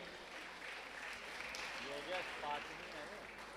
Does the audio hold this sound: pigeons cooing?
no